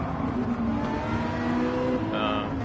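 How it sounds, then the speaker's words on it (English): A Ferrari F40's twin-turbo V8 engine revs and roars continuously at moderate distance, its pitch rising and falling over a few seconds. "I believe this has a V8 engine in it."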